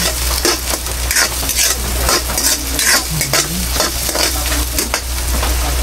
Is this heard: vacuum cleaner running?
no